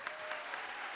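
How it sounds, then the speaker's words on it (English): Applause from a plenary conference audience, a brief, distant and faint wash of many hands clapping throughout. "Let's give her another round of applause,"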